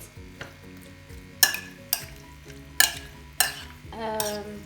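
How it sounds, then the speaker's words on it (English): Chicken tikka ingredients being mixed in a bowl, four or five sharp clinks of a utensil against the dish over a soft, close stirring rustle. "gonna mix them a little bit and then leave them separate"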